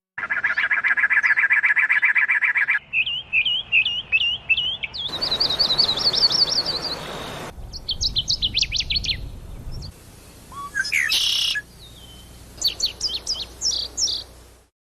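Several different birds chirp and sing one after another: a sustained trill, rapid repeated twitters, sharp chip notes and quick clustered calls, each clear and close against a quiet background.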